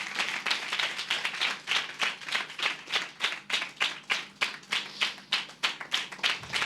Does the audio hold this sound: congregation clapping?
yes